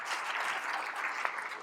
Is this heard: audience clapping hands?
yes